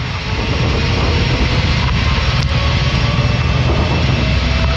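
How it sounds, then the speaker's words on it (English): A Learjet 45XR's jet engines at takeoff thrust make a steady, loud, broadband roar that fills the whole span without letting up, with no talking. "2 throttles to takeoff."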